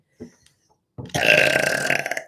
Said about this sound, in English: Spirit makes me burp for anyone who's new.